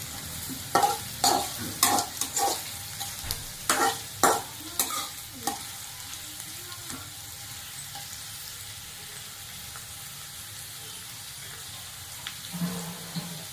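Curry leaves and chopped onion frying in hot oil in a pan for a ridge gourd stir-fry, a close burst of crackling sizzle with sharp spits and stirring scrapes that settles into a quieter steady fry, with a faint clatter near the end.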